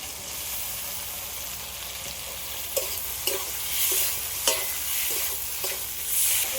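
Potatoes and taro stems hiss and sizzle in a pan as a spatula stirs, with several sharp scraping taps at irregular intervals.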